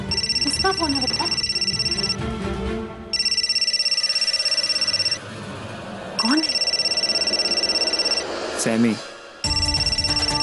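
A phone rings with repeated electronic tone bursts separated by short gaps, loud and close, while people talk in between.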